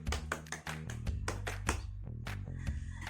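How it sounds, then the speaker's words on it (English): A classroom group applauds together at the close of a music lesson activity, a steady burst of many hands clapping at close range for about three seconds, with a low musical backing underneath. "Another big round of applause for ourselves."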